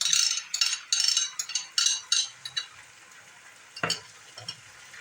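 Onions fry in a pan as tomato paste is stirred in, with bursts of sizzling and spoon scrapes in uneven rhythm, then a clink, quieter sizzle and a few softer stirs, and no talking.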